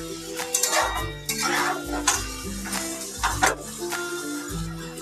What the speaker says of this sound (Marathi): आणि आता आपण याच्यामध्ये उभे चिरलेले टोमॅटो घालून घेऊयात, आणि छान असं परतून घेऊयात।